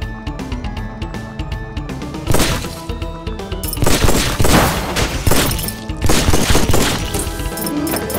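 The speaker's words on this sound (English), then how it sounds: "Shotgun!" Shotgun blasts in the mobile zombie shooter Undead Squad, loud repeated booming shots over a dense game music bed, bursts clustering in quick succession with no talk.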